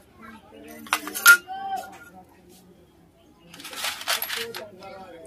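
Metal plate being fitted into a Hero Honda motorcycle engine, heard as close, sharp metallic clinks and jingles in two short clusters, with someone talking quietly between them.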